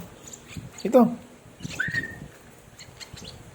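Lovebirds give a few short chirps and a rising whistle, close by, with quiet background noise between the calls.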